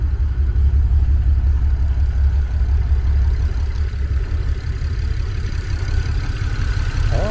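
A BMW 335i fitted with VRSF downpipes idles steadily, giving a deep, constant low rumble with faint mechanical clatter, loud and close throughout with no talking.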